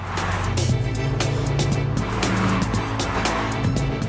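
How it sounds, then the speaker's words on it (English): Lotus Exige sports car lapping a race track, a loud steady engine drone with tire noise running continuously and close throughout. "They're driving the Lotus Exige"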